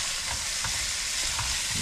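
Garlic fries in hot oil in a pan, a bright, continuous sizzle close by, with a few soft scraping stirs of a utensil breaking through.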